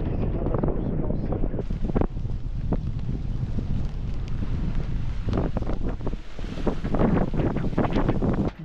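Gusty wind buffets the microphone aboard a sailboat at sea off the coast between Brazil and French Guiana, a rough continuous roar with surges and waves beneath, and someone speaking at times.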